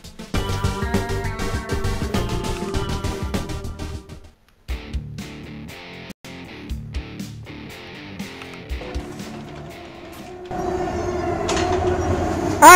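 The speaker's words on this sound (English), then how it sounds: "I know it's hard for you to hear that train in the background, which actually sounds pretty good right now" A train passes in the background in American Truck Simulator, with a rumble and rhythmic clatter of wheels that drop out briefly, then return and build toward the end.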